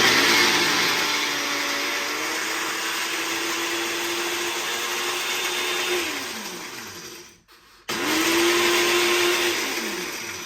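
An electric blender grinds ingredients for Malaysian-style chili chicken, a loud steady whirring drone that winds down, stops briefly, then starts up again.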